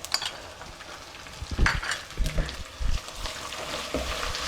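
Garlic ginger paste fries in hot oil with onions and whole spices, giving a soft, steady sizzle broken by scraping stirs and light clinks of a spoon against the pan.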